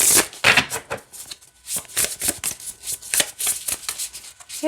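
Rapid riffling bursts of Sacred Cycles Oracle cards being shuffled up close, crisp flutters repeating in quick succession with brief pauses between them.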